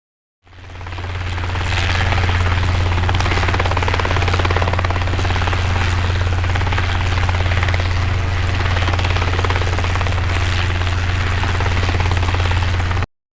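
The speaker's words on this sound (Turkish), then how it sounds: "Yangın helikopteri, bu bir yangın helikopteri. Büyük yangınlara su bırakır." A firefighting helicopter's rotor thumps steadily with a loud, constant low drone, close and sustained throughout, with no voices.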